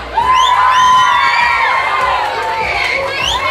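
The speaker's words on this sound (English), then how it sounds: "Let's have a big cheer for them." A crowd of schoolchildren at Goldington Academy in Bedford cheers and whoops loudly, a dense, high-pitched burst of shouting that stays strong and fades only slightly toward the end.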